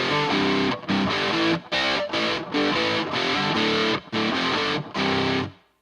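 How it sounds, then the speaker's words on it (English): Heavily distorted electric guitar chugs through choppy riffs with abrupt gated stops, loud and close, with a reverberant wash around the chords. "I also noticed there's quite a bit of reverb in there."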